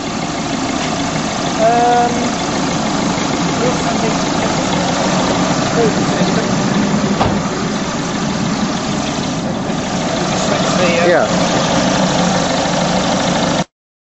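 A car engine idles steadily after running 10-15 minutes, a continuous low rumble that holds at an even level throughout, with faint knocking-like texture and no break in the drone.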